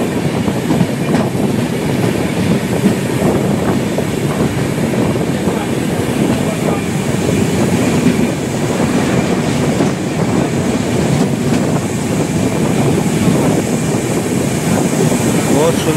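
The Tinsukia–Bengaluru Express (22502) runs through Boko station in Assam without stopping, and its steady rumble and wheel clatter continue loud and unbroken throughout, with a voice speaking over it.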